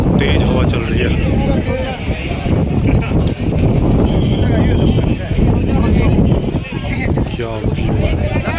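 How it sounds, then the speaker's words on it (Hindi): Strong mountain wind on the route up to the Vaishno Devi Bhawan shrine buffets the microphone in a loud, steady roar, with gusty rumbling that never lets up across the whole stretch. "बहुत ही तेज हवा चल रही है।"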